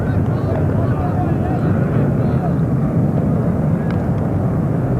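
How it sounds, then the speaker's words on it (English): Planes fly over a ball game near Plattsburgh Air Force Base in 1990, giving a loud, continuous droning roar with wind noise and a voice talking over it. "There are the planes going overhead."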